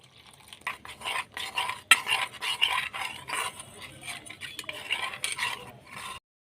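A spoon stirs cornflour into water in a vessel for Bombay Karachi halwa, with soft, irregular scraping and clinking strokes close up and no talking.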